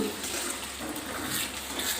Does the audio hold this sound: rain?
no